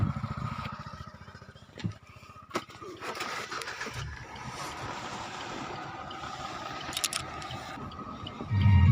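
A vehicle engine running on CNG from a 60 tank: a steady, loud mechanical drone with heavy wind buffeting and rumble, continuous throughout and close to the microphone.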